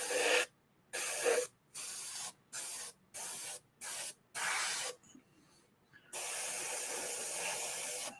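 Short bursts of primer from a spray can hit a model arm, several hissing sprays in a quick stop-start rhythm, followed by one longer continuous spray, close and clear with no voices.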